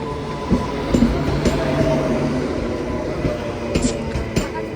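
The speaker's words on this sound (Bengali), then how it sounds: "ট্রেন তো ঢুকে গেছে" A train pulls into a station platform with a low rumble and rolling clatter of wheels, brief squeaks and metallic clicks, crowd murmur and voices around it at moderate loudness.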